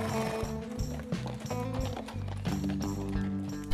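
Police horses ride along a forest trail in the Grunewald, with steady clip-clopping hooves heard over a dense layer of music throughout, no talk.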